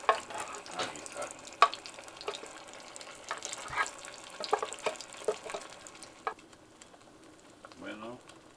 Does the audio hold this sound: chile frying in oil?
yes